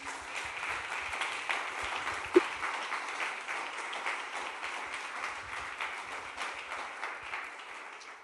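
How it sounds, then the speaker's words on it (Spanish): A church congregation applauds during a sermon, a steady, fairly quiet wash of many hands clapping that carries on throughout and softens slightly at the end. "Un aplauso para el Señor, que es tan lindo."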